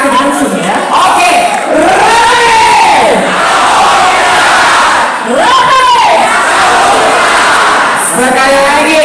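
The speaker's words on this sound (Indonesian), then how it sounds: "kita yel-yel dulu biar makin semangat nih" A large crowd of volunteer traders at an outdoor Prabowo rally shouts rhythmic chant-yells in unison, loud and close, the voices rising and falling in repeated swooping phrases.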